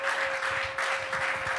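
At a youth summit hall, an audience claps in uneven bursts under a steady tonal hum, the clapping moderately loud and slightly swelling and dipping over a short stretch.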